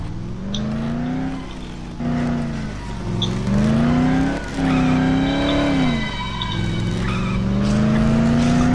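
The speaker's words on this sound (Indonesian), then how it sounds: "Ini nyetir mobil bisa apa enggak ya?" An engine revs repeatedly in Dead Island, the zombie video game, as a car accelerates and shifts, tires squealing and skidding between loud, close surges of engine noise; no talking.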